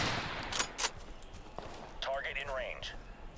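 Gunfire at a vehicle in the game Total Conflict: Resistance: a few sharp shots and short bursts, fairly close, mixed with game sound effects and someone talking.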